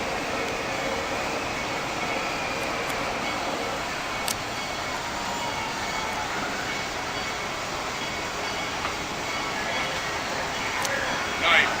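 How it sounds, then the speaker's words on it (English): A green train backs up toward the sheds at day's end, a faint steady rumble and rail hiss with brief clanks heard from a distance. "we managed to see the green train as it backed up to the sheds, finishing its day"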